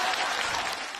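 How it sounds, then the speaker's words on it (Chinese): A short burst of applause during a stage comedy sketch, a dense, even patter of clapping from an audience, moderately faint and steady through its brief length. "给你鼓鼓掌行不行"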